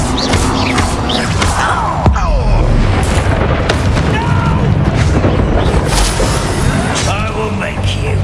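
Bombarda spell explosion in Hogwarts Legacy, loud booming blasts and crashes with debris and magical whooshes layered over a dense, continuous roar of combat.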